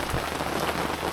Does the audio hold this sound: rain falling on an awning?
yes